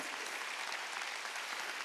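A church congregation at a Wednesday worship service claps together during the sermon, a dense, even burst of applause that fills the room briefly.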